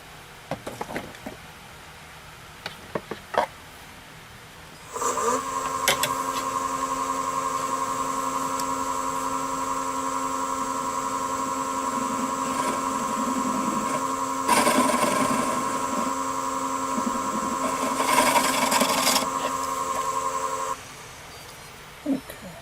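Small oak bowl spinning on a woodturning lathe as the nub in its center is worked: after some light knocks, a steady motor hum with a tonal whine starts, holds for about fifteen seconds, then stops.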